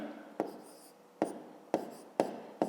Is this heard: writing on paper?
yes